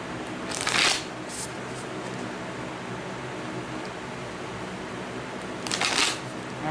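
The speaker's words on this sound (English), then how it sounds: "I'm just in the zone of shuffling these cards." Tarot cards being shuffled by hand: a continuous soft papery riffle with two louder bursts of flicking near the start and end, close and steady, with no voice.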